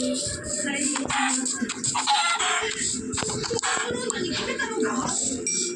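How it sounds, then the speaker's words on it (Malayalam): Chickens cluck and a rooster crows repeatedly in a busy, close mix in Minecraft, with bursts of game sound effects and some voice activity. "അത് കോഴിയാണ്"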